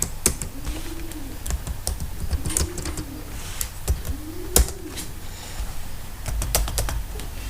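A loan amount being entered on a computer keyboard, a run of sharp, irregular key clicks close by, with a pigeon cooing softly in the background and no talk.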